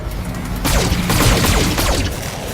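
Mech weapons fire in the BattleTech video game, a loud sustained burst of overlapping shots and impacts that starts abruptly and rumbles on for about two seconds with no speech.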